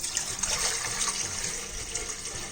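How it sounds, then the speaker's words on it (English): Water poured into an idli maker on a stove, a steady broadband gush of liquid filling the vessel, close and continuous with no talking. "We'll add the water in the idli maker."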